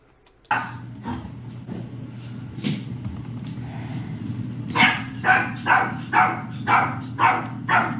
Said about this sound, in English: Shut the dog up, for fuck's sake.